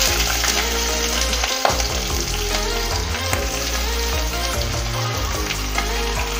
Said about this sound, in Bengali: কেটে এটাকে ভালো করে ধুয়ে এবার আমি একটু ভেজে নেব